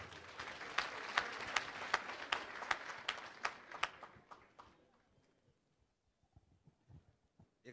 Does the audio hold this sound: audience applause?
yes